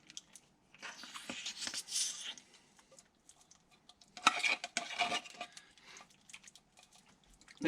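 A spoon stirs condensed cream of mushroom soup into cooked ground beef in a pot, giving soft scraping and clinking strokes with wet, sticky squelches in uneven bursts and short pauses between them.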